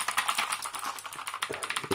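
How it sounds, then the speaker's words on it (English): Rapid, irregular clacking of keys typed on a Redragon Varuna mechanical keyboard, loud and close, a continuous burst of sharp keystrokes with no talk. "It's way more louder than a normal keyboard, but it feels good when typing."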